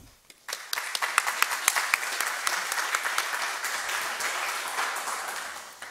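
Applause from a conference audience at an international arbitration congress in Lima, dense steady clapping that swells quickly and holds for several seconds, filling the hall without a break.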